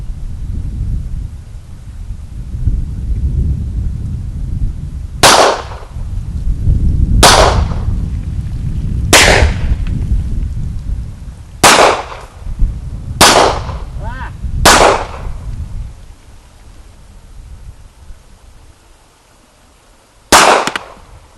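Seven loud, sharp gunshots from a Hi Point C9 9mm pistol at an outdoor shooting course, fired singly at irregular intervals of one to three seconds, each with a short outdoor echo over low wind rumble.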